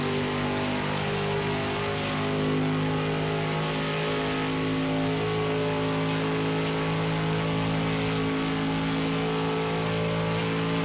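A vintage race car engine roars continuously at high speed on the Le Mans circuit in the Project Cars 2 racing game, a loud, sustained drone with no pauses.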